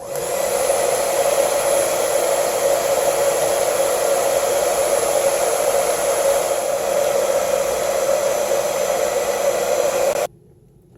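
A Vaslon 1875W infrared hair dryer runs on fan only with no heat, giving a loud, steady whoosh with a faint high whine that holds for about ten seconds, then cuts off abruptly.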